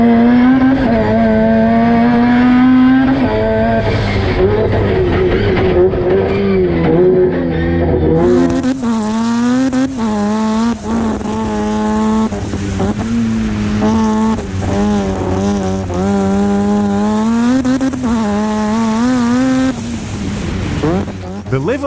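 Mad Mike's quad-rotor Mazda 3 race car, a 1400-horsepower build, screams up a snow-covered mountain climb, its loud high-revving rotary wail rising and dropping through repeated gear changes and throttle blips, close and dominant for the whole stretch.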